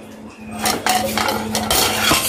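A metal spoon clinks against cups and dishes while tea is being made, giving a few quick, bright, close clatters and taps over a low steady hum.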